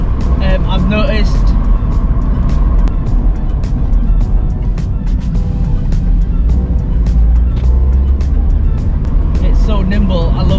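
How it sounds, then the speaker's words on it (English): A rebuilt, crash-damaged Mazda MX-5 roadster drives on the road, its engine droning loud and steady from inside the car with road noise, while people talk over it throughout. "This is the first time the car has been back on the road since the crash"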